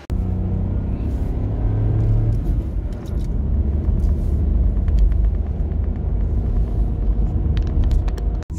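A service technician's car drives steadily, heard from inside: a continuous loud low engine and road rumble with some tonal hum, holding even for the whole stretch with a few brief clicks and rattles near the end.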